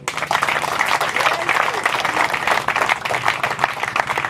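A crowd at a donation ceremony for disabled people in Danane applauds to acclaim the Lord Jesus, with steady, dense clapping running loud and continuous throughout, mixed with some crowd noise.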